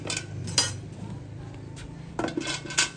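A metal vessel is handled in a cattle yard before milking a cow, giving a few sharp clanks and clinks, two louder knocks standing out against quiet background noise.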